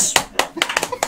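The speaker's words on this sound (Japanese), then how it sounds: "拍手。" A few sharp hand claps, roughly six or seven in about a second, close by and fairly loud, with brief voices mixed in, at a vegetable gardening club.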